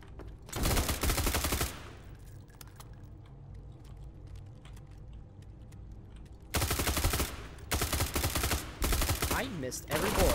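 Bursts of automatic gunfire from the SCP 5K video game, a dense rapid burst near the start, a quieter stretch of distant shots and clatter, then several loud repeated volleys at the end.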